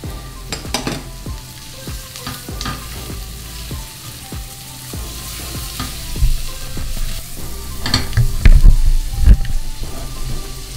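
Garlic and onions sauté in a pan for Filipino pochero, a steady close sizzle with scattered stirring scrapes and clinks that grow louder and busier toward the end, with no talking.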